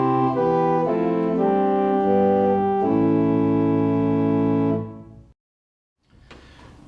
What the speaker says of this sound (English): The diapason is the true organ tone.